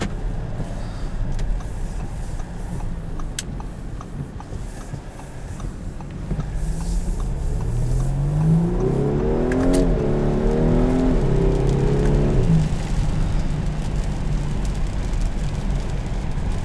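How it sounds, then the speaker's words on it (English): 2018 Audi A5 Cabriolet with a 252-horsepower four-cylinder engine accelerating, a steady throaty drone that climbs in pitch through several gear pulls, loud and close with road noise underneath and no talk. "Fantastic power for a 4-cylinder. And it really has a very throaty sound."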